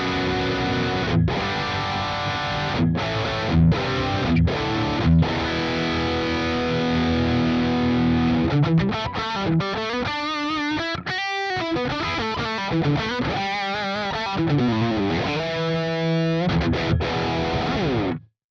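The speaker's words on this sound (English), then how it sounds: "This is the lead amplifier, and it's great if you want saturated, high gain distorted tones" Electric guitar played through a high-gain, saturated lead amplifier on the Archetype Plini X, loud and continuous with chugging chords giving way to fast sustained lead lines and bends, no voice.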